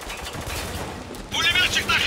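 Machine gun fire in the video game Spec Ops: The Line: a rapid burst of automatic shots breaks out sharply in the second half, following a stretch of muffled in-game action and voices.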